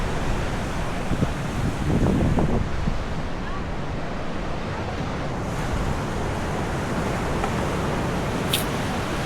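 Strong surf rolls onto a white sand beach at Entalula Island, a steady loud wash of breaking waves with gusts of wind buffeting the microphone and brief voices under the roar.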